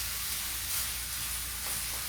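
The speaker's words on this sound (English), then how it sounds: "can hear it sizzling" Italian sausage sizzles in a pan with a steady, dense frying hiss, fairly close, with no talking.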